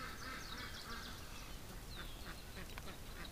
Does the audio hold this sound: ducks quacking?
yes